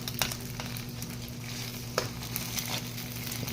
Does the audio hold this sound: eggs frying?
yes